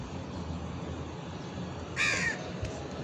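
Crows caw in a short burst outdoors, a clear call rising over a steady background hum of daytime ambience, with a faint second call just after.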